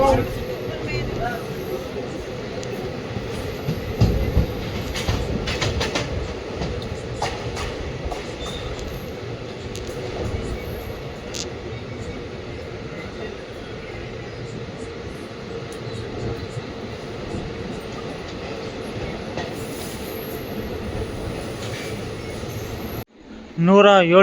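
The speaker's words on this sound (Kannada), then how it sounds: "ನಮ್ಮ ಟ್ರೈನ್ ಬಂದೈತ್ರ ಈಗ ರಾಣಿಬೆನ್ನೂರು ರೈಲ್ವೆ ಸ್ಟೇಷನ್ಗೆ" A Hubballi–Bangalore special express train rolls along the rails near Ranebennur with a continuous rumble and occasional clatter, steady for a long stretch before a brief break and a louder burst at the end.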